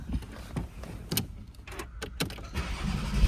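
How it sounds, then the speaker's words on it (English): A Porsche 718 Spyder with a 4.0L flat-six and six-speed manual, 2021 model, cranks and fires up, a short starter whir followed by bursts of engine noise that settle into a steady, fairly loud idle heard from close by. "we're gonna go ahead and start the car"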